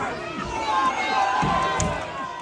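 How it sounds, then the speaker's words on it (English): A crowd outside a hotel housing asylum seekers clashes with police, a dense continuous roar of shouting and yelling voices with a few sharp bangs and thuds breaking through the din. "The crowd clashes with the police."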